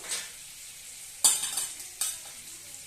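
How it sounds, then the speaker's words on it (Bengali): Roasted peanuts picked out of chanachur are stirred into a mixture in a pan, making a quiet sizzle with a few sharp spatula scrapes spaced about a second apart. "পুরোটা আমি দিয়ে দিলাম দিয়ে ভালো করে নাড়াচাড়া করতে থাকবো"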